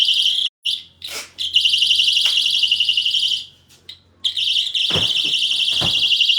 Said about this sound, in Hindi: अलार्म सेल थोड़ा सा मुझे कमजोर लग रहा है लेकिन चल रहा है ये।